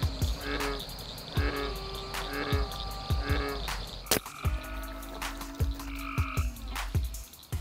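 Frogs croak at night in a steady, rhythmic series of loud, close calls, with insects droning softly in the background and no talk.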